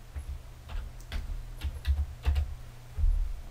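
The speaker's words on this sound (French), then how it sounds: "je vais utiliser la touche supprime" A handful of soft, separate key presses, quiet and close, with short irregular pauses between them.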